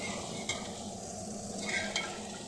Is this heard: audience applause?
no